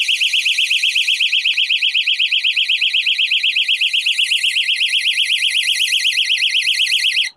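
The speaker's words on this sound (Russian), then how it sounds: "Эта электронная сигнализация поклевки позволит вам вовремя поймать рыбу." An electronic fishing bite alarm beeps in a fast, steady, high-pitched pulsing pattern, loud and close, running continuously for several seconds before cutting off abruptly, with no voices.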